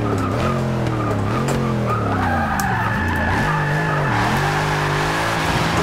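Tires squeal steadily as a Dodge Challenger Hellcat drifts in the racing game Forza 6, the screech layered over a rising and falling engine drone, continuous and close with no talking.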